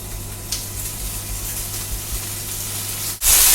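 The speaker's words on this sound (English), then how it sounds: "Once you can hear a nice sizzle." Steady hissing sizzle of prosciutto frying in a hot pan, close and continuous, ending with a sudden louder burst of spitting sizzle.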